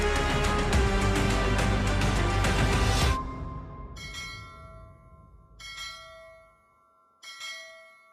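A loud music passage cuts off, and a resonant bell then tolls slowly three times, each strike ringing out and decaying before the next.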